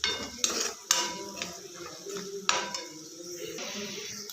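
A spoon clanks and scrapes against a pan while fenugreek and bengal gram palya is being mixed, giving irregular close metallic knocks and rattles at low volume.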